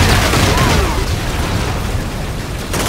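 A loud, rumbling explosion in the video game Call of Duty: Infinite Warfare, with a sustained roar of debris and noise filling the whole stretch, ending with a short burst.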